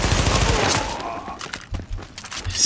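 Gunfire from a weapon in the video game The Division, a rapid, loud burst of shots in the first second followed by scattered quieter bangs, with a voice talking briefly over it.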